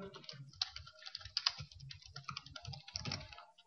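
Someone types code on a computer keyboard for a Selenium TestNG test, a quick, uneven run of close key clicks with brief pauses, alone with no voice.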